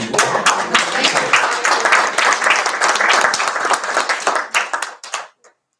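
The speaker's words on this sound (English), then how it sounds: "I'd suggest we give them a round of applause." Audience at a school board meeting in Dexter breaks into a round of applause, dense clapping close by for about five seconds before tapering off to a few last claps.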